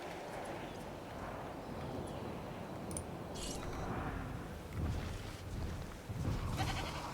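Goats in a video game bleat faintly in short, scattered calls over a soft, steady ambient background, with light hoof-like clatter.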